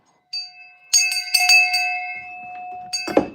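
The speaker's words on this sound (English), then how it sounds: "That's a ring of the bell." A bell in a garage rings out in a few sharp, bright strikes that leave a sustained metallic tone, followed by faint rustling and a short clatter near the end.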